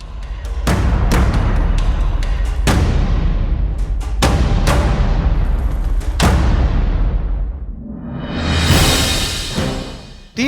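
Explosions in Sanaa during airstrikes: repeated sharp, loud blasts roughly every one to two seconds, each with a long rumbling decay, followed by a rising roar like a jet passing overhead.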